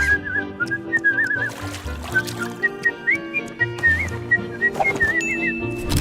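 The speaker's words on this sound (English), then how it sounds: "Gumball specifically whistling the background music as he uses a museum as a bathroom" A cartoon character whistles a bouncy, wavering tune along with the background music, a plodding music bed with soft thumps.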